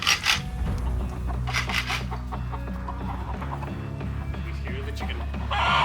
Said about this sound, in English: He's here, the chicken.